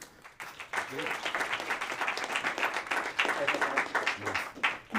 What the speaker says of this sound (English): So without further ado, a little round of applause.